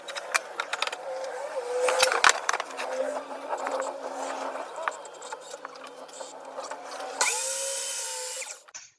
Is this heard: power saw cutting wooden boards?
yes